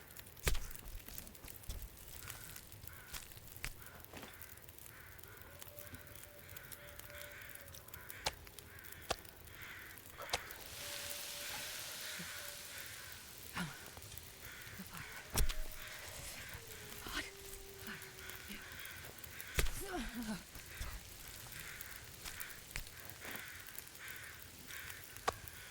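Crows caw loudly outdoors in a string of harsh calls spread across the stretch, some near and some farther off, over a steady background hiss.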